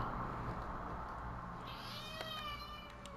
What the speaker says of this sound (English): my cat is meowing its head off